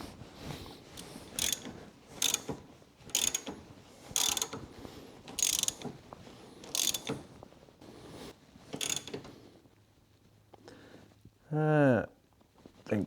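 Ratcheting clicks come in repeated bursts as a pipe-thread oil drain fitting is screwed into a John Deere lawn tractor. Rhythmic metallic ratcheting sounds close by, followed by a short squeaky, creaking grind as the threads tighten.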